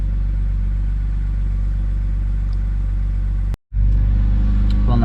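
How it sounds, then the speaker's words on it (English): BMW N52 engine with a suspected vacuum leak idling unevenly, its revs drifting up and down in a steady close drone, cut by a sudden brief dropout before resuming. "See how it just kind of revs up and down? I'm assuming that's a vacuum leak."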